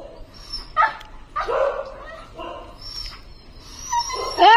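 A nearby dog gives several short barks and yips broken by whiny whimpers, in uneven bursts.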